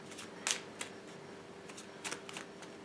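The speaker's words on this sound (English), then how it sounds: "I'm good at shuffling." Playing cards being shuffled for a Sorry! board game, a few short riffling bursts with pauses between them, close and fairly quiet.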